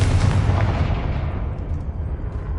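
A Confringo blasting spell goes off in Hogwarts Legacy, a loud, deep rumbling explosion that starts at full force and slowly fades into a low, lingering roar.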